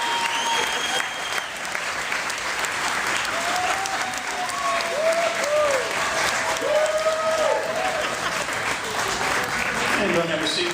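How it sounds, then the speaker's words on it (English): An audience at a live hypnosis show in East Orlando, Florida, gives a full round of applause, dense steady clapping throughout with some cheers and voices mixed in. "Give all my friends another big round of applause."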